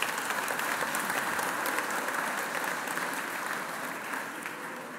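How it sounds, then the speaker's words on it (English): Loud, continuous applause from a large crowd at a university graduation ceremony in Chelmsford, many hands clapping together in a thick wash that fades slightly toward the end. "I think you should all give yourselves a round of applause"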